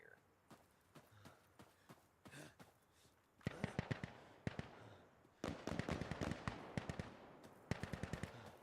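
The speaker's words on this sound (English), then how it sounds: "Explosions go crazy on here." Rapid bursts of video game gunfire and sharp explosions crackle in quick clusters, quieter at first then louder and denser, with no voices.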